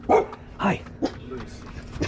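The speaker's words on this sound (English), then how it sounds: "Let the dog out here, you can meet her too." A dog gives several short, sharp barks and yips spaced about half a second apart, close by and fairly loud, in an indoor setting with people nearby.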